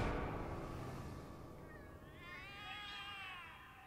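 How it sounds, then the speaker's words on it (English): Cats meow in The Cat Lady video game, a couple of drawn-out, wavering cries that rise in the second half over a low hum, faint and alone. "The cats are alarming."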